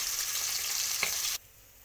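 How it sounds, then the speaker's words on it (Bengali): Fish sizzling lightly in hot oil while being fried for a Bengali fish curry with cauliflower and potato; a steady, close crackling hiss lasts about a second and a half, then drops abruptly to a much quieter background. "মাছগুলো একটু উল্টে নিলাম যেহেতু ঝোলে দেব তাই হালকা করে ভাজলেই হবে"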